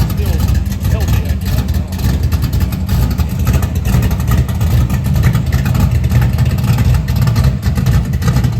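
Chevrolet Malibu engine idling with a rebuilt carburetor and a tired but healthy motor, a steady, loud, close rumble throughout with some voice over it.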